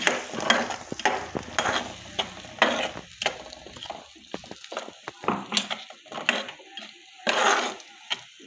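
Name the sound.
ground white mustard, cashew and melon seed paste frying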